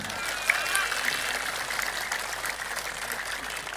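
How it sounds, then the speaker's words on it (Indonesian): Sustained crowd applause at an outdoor political speech in Cirebon, Indonesia, a steady broadband wash of clapping from many people lasting throughout, moderately loud with no single claps standing out. "Tepuk tangan."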